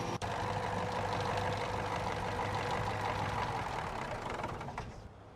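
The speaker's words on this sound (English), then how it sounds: "Listen to the engine sound when it shuts down." A Versatile tractor engine in Farming Simulator 19 runs at a steady drone, then winds down and falls quiet as it shuts off near the end, preceded by a brief click at the start.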